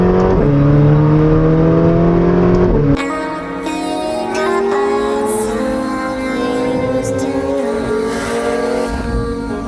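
A McLaren 720S sports car driving along the Pacific Coast Highway at sunset, its engine loud and close with a steady drone that shifts gears partway through, then holds a rising, sustained pull.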